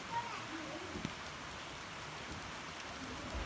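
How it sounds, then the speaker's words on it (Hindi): Steady light rain patters softly in a continuous hiss, with no voices, just an even wash of falling drops. "उसके साथ हल्की हल्की बारिश भी आना शुरू हो गई।"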